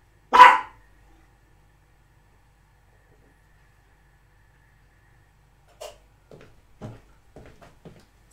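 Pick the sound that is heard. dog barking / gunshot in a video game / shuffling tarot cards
dog barking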